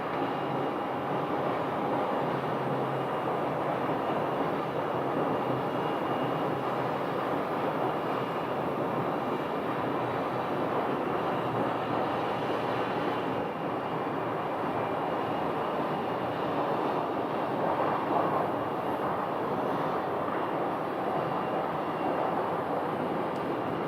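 An airliner lands on the runway at Phoenix Sky Harbor, a continuous distant roar of jet engines that holds steady and broad for the whole stretch, with no voices.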